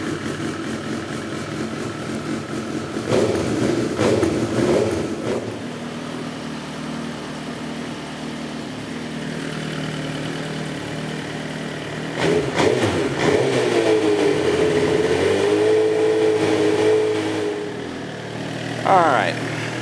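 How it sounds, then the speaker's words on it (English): A Suzuki GSX-R1000 motorcycle engine idles steadily during a coolant change, producing a constant low rumble that swells briefly twice, while someone talks over it now and then. "we're going to start it up and just let it idle"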